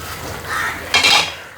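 A lid is set down on a pot of banana-stem curry simmering with coconut milk, giving a single short metallic clatter after a moment of soft cooking noise.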